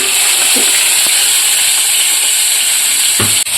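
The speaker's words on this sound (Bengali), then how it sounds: "যে তেলে আমি বড়িগুলো ভেজেছি সেই তেলে আমি প্রথমে কাঁচা লঙ্কা দিয়ে দিচ্ছি" Green chillies and ginger paste sizzle loudly in hot frying oil in which badi had been fried, giving a continuous bright hiss with a few soft stirring clatters and a sharp knock near the end.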